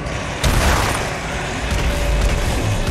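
An explosion in the video game DOOM Eternal hits as a sudden loud boom, followed by a few seconds of dense crackling, splintering noise.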